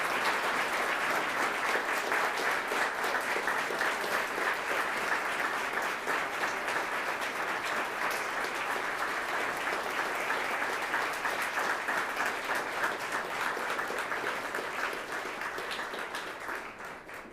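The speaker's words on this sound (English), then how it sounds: "give them a round of applause" A large audience at Elmhurst's mayoral State of the City address gives first responders a long standing ovation, dense continuous applause holding steady for many seconds before slowly thinning toward the end.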